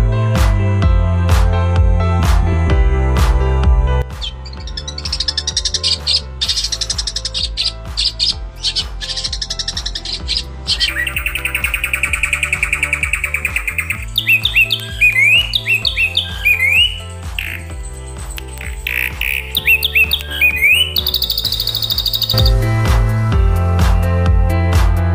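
A long-tailed shrike, also called the rufous-backed shrike, calls loudly and close in repeated harsh squawks and chattering phrases, over a steady rhythmic musical backing.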